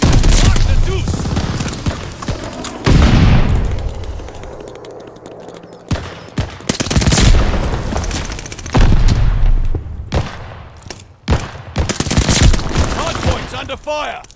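Gunfire in Call of Duty Vanguard with a suppressed MP40, loud bursts of rapid automatic fire and booming impacts in several clusters separated by short lulls, with game voice lines mixed in.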